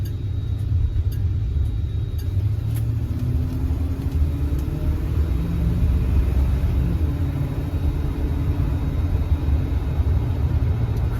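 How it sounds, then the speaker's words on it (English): Steady, loud rumble of a 1971 Oldsmobile Cutlass S with its 350 V8 running, a deep continuous engine drone with slight pitch wavering, heard close and alone throughout. "So let's see what that 350 sounds like,"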